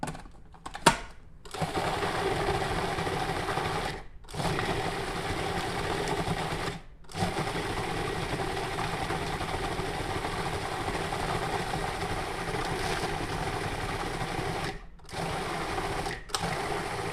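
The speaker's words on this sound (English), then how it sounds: "I just knew they were small enough to go in this food processor." A food processor whirs loudly and steadily as it chops frozen watermelon chunks, its motor drone broken by a few brief pauses between pulses, with no one speaking.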